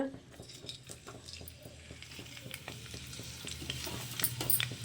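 Onion and other ingredients fry in two spoons of oil in a pan, a soft steady sizzle with scattered light scraping and stirring clicks, fairly quiet and close.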